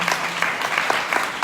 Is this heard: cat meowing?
no